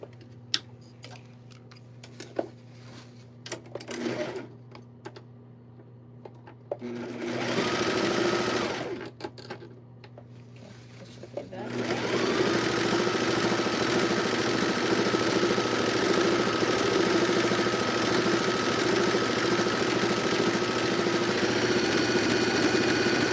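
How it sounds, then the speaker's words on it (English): A serger sewing machine trims and finishes a fabric edge, running in a couple of short bursts and then steadily for about ten seconds, a close, loud mechanical whir with a rapid ticking rhythm. "have a serger here."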